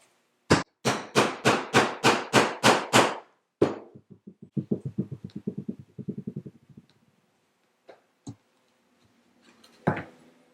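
Steel stitching prongs are driven into leather with a hammer for a pen holder: a close, loud run of eight evenly spaced sharp strikes, then a burst of quicker, lighter taps and a few scattered knocks.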